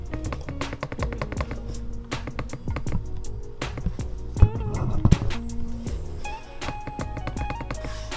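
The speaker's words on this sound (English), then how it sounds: "There's a nice clicking sound to it. This keyboard is backlit, and it has a really nice tactile feel to it." An HP Envy x360 laptop's backlit keyboard, set in a metal body, clicks under steady typing, with crisp, closely spaced keystrokes in quick irregular bursts and brief pauses, close to the microphone.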